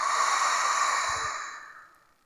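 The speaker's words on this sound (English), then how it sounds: "Have a few deep breaths here." One long, deep exhale during a calm yoga session for digestion, a steady, close breath that fades away over about two seconds, with no talking.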